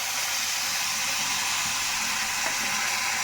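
Ground paste of onion, garlic, ginger and chili sizzles steadily in hot oil, a close, even hiss of frying that holds at the same level throughout with no talk.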